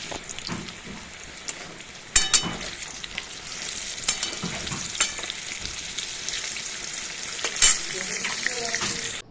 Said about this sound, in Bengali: তাই পটল ভাজা বসিয়ে দিয়েছি